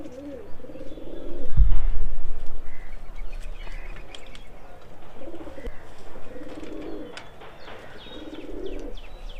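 A foreign female pigeon of the Madas breed cooing in soft, low repeated phrases, close by, with some rustling and a brief thump, no talking.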